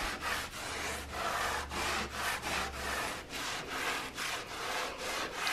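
Bathtub grout being scrubbed by hand with a homemade cleaner, close rhythmic back-and-forth brushing strokes repeating steadily about twice per second, with no talking.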